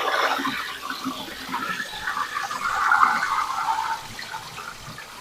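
Water for washing escarole is drained and refilled in a sink, making a continuous splashing gush that swells louder partway through and then eases off. Nobody speaks.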